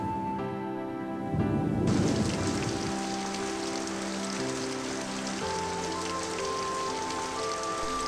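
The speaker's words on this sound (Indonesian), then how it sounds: "Ya Allah, semoga hujan ini bermanfaat." Steady rain falls on surfaces in a continuous hiss, briefly swelling louder, in a children's educational film about disaster preparedness with soft tonal music layered over it.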